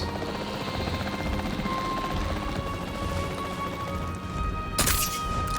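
Capture-team helicopter in a Jurassic World video game: a steady, dense rotor and engine roar fills the whole stretch at constant loudness, with a sharp crash-like burst near the end.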